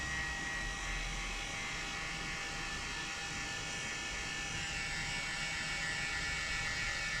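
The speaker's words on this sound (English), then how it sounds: "Now I'm going to heat it up and stick it. This is just a heat gun." A heat gun blowing hot air onto glue on a cold day, a steady close whirring hiss with a constant motor hum that holds unchanged from start to finish.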